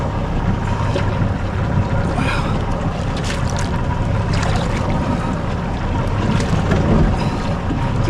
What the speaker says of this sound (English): Just kill that engine for me.